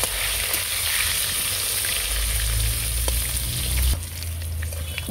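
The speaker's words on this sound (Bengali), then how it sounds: "আলু আমি লাল করে ভেজে নেব।" Potatoes fry in hot oil over a cumin tempering in a kadai, a steady, fairly loud sizzle that drops in level near the end, with no voices.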